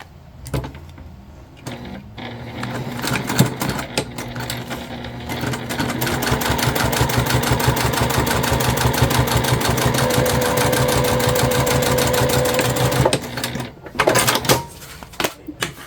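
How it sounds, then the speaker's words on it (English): A sewing machine bastes the bottom of a side panel onto a convertible bag, running steadily at speed for about ten seconds with a rapid mechanical chatter. There are brief starts and stops at each end. "we're gonna go ahead and baste the bottom on just straight across"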